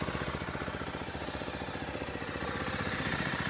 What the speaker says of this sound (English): Engine sounds good and smooth. Nothing very noisy here.